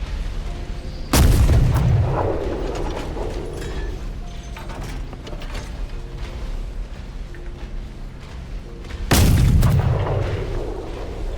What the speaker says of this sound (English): We eventually caught up to him so we could start pumping shotgun rounds into his trampler.